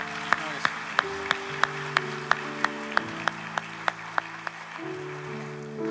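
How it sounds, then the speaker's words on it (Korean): A church congregation at an Armed Forces Day youth worship service claps in slow, even unison to welcome visiting soldiers, each crisp beat landing over sustained keyboard chords. "우리 박수로 다시 한번 환영하겠습니다."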